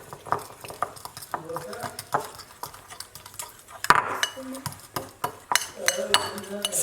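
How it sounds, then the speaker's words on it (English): Cinnamon roll frosting mixed in a bowl with a utensil, irregular clinks and scrapes against the dish, close and moderately quiet, with some voices in the background. "Let me mix a little bit."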